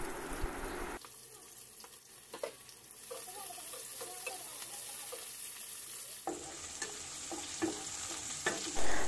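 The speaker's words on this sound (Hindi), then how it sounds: "फ्राई करने के बाद इसमें हम ऑनियन को डाल देंगे" Onions sizzling in hot oil with whole garam masala and cumin on a medium flame, with a steady frying hiss, scattered clicks of stirring and a louder burst near the end.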